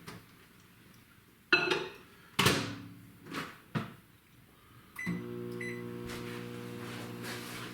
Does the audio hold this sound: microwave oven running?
yes